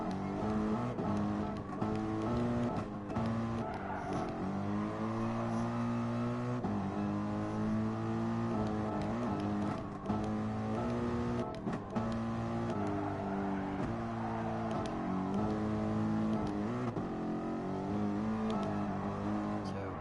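Race cars running in an FIA Manufacturers Series race, their engines droning loudly and continuously with rising and falling pitch as they shift and accelerate, several cars overlapping.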